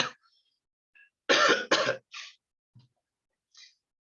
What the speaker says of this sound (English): COVID cough, sorry.